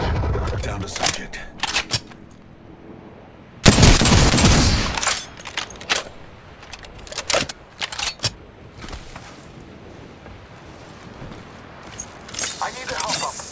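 Sentinel sniper rifle fired in quick succession in the Apex Legends video game, several loud sharp reports spread across the clip, one long burst near the start, with game voice lines heard between shots.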